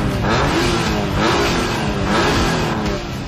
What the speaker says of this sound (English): a United Nations drag race, with Britain being represented by a 350 brake horsepower TVR 350, Japan by the Honda NSX, and from Germany, a 911